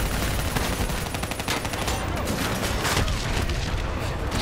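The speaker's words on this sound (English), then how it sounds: "Where are they shooting from?" Enemy gunfire rages in Call of Duty: Black Ops III, a dense, loud, continuous fusillade of rapid shots and booms that fills the whole stretch without let-up.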